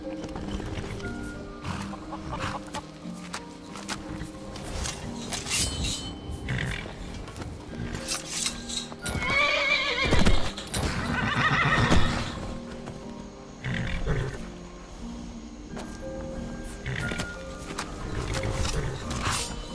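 A horse whinnies loudly in the middle, with snorts and clip-clopping hooves around it and a game-like ambient backdrop from modded Skyrim on Xbox One; no speech.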